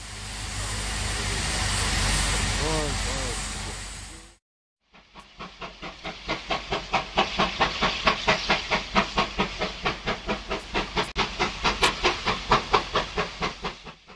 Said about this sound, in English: This 25NC is approaching the Northern Cape provincial border with a southbound passenger train